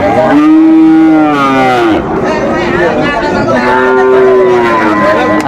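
Loud, drawn-out moos from nearby Sahiwal cattle at a cattle market in Mymensingh, one after another, over a steady background of crowd chatter.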